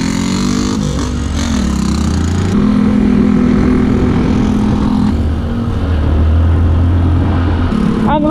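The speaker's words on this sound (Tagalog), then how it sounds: "Gumagana na yung motor ni Parin Jonathan." A motorcycle engine runs close by in a remote mountain village in Kayapa, Bakun, Benguet, holding a steady loud drone whose pitch shifts a few times as it idles and revs, with no talking.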